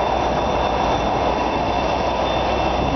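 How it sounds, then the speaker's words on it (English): A GWR Class 57 diesel locomotive in new GWR livery, hauling Mark III and Mark I coaches, arrives at Newton Abbot station with a steady, loud rumble of rolling wheels and rail noise throughout, no voices. "It's a class 57, this is 57603, forming the service to St David's in the new GWR livery."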